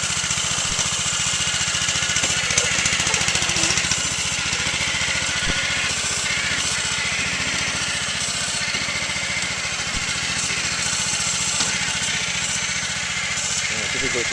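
The engine of a rice planting machine runs steadily in a muddy field outdoors, a continuous rough mechanical drone throughout, with people talking over it.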